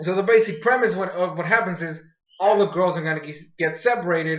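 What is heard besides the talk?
No distinct noise like a dog, phone or traffic.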